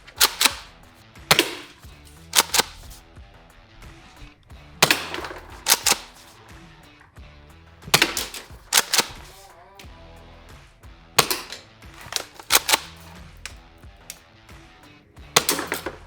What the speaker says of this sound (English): we're going to go shoot the shotgun and see what the spread looks like on a 3-barrel gas shotgun